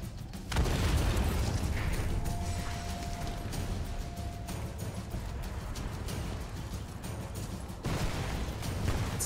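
A TNT charge blows up in Sniper Elite 4, a loud sustained rumbling explosion with crackling bursts that keeps going for several seconds, briefly dipping before surging again near the end.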